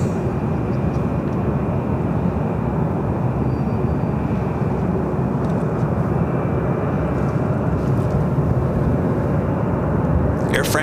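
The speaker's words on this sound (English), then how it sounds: "That is Southwest Airlines flight 2693 heading to Austin, Texas, the 737-700." A Southwest Airlines Boeing 737-700 jet at LAX airport makes a loud, continuous engine roar that holds steady throughout.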